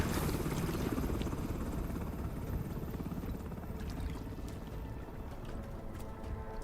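A helicopter in a cutscene from the game The Division, its heavy rotor chop and engine roar loud at first and then easing off slightly while staying continuous throughout.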